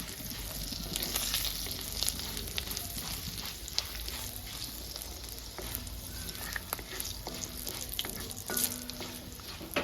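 A tempering of curry leaves and spices fries in a pan for ivy gourd chutney, crackling and sizzling close up in a steady, busy hiss with sharp pops and no talking.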